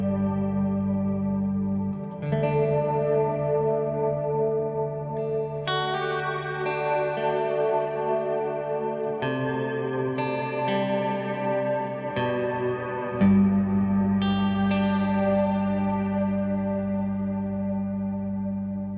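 Sustained guitar chords wash through a shimmer reverb pedal, an RV6, each change blooming into bright, octave-up, echoing layers that overlap and hang, loud and continuous with no talking.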